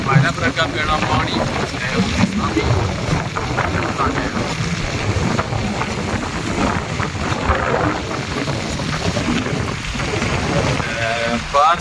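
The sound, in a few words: rain falling on the road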